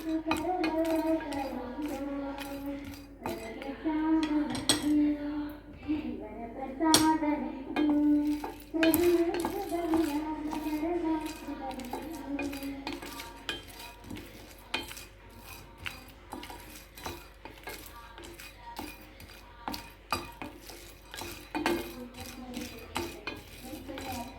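Roasting tea masala spices stirred in a metal pan, with repeated scraping and clinking of the utensil against the pan in an uneven rhythm, close and moderately loud, with occasional soft voices in the background.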